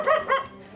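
Two quick barks from a dog in a charter-flight setting, close and fairly loud, each short with a brief gap, fading into quiet room tone.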